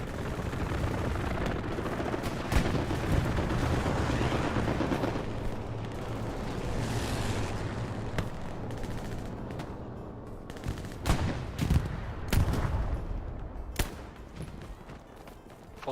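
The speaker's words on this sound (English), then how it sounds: "Our bombing run is coming down on F4." Bombing run in a multiplayer war video game, with dense, continuous gunfire and rumbling explosions throughout, and sharper individual blasts and shots standing out near the end.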